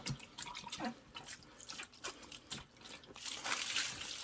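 Water is poured slowly over the bedding of a worm bin, giving soft irregular drips and trickles close by that swell into a steadier splashing flow near the end.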